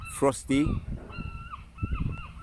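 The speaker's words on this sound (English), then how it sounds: "The birds are chiming in with it." Birds call outdoors on a cool, breezy autumn day, with honking, goose-like cries near the start and thinner chirps and calls following, while a person speaks nearby.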